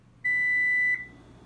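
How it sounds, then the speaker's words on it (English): A kitchen timer sounds one long, steady, high electronic beep lasting under a second, loud and clear over a quiet room during meal prep of a ground turkey stir fry. "So, as you all just heard, the timer went off."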